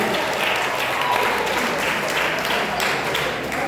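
A church congregation applauds steadily during a sermon, a dense, continuous wash of clapping at even loudness throughout with no pauses.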